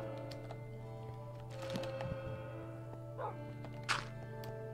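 Dogs in Minecraft give a few short, sharp barks at moderate distance. They rise above a steady layer of game tones and do not sound all together.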